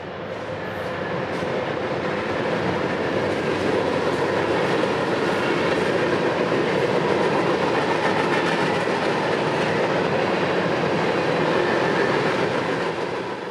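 A freight train led by a pair of EMD Mac locomotives passes loudly and close, a sustained roar of rolling cars with rhythmic wheel clatter and occasional squeal running steadily from start to finish.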